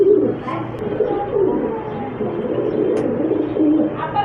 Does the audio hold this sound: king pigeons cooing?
yes